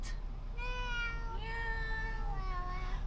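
A voice imitates a cat, giving a drawn-out meow followed by a second, wavering meow, clear and close over a steady background hum.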